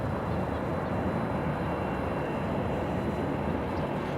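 A Delta Airbus A321 airliner in from Atlanta roars steadily at LAX, its engine noise a continuous broad rumble with no voices over it.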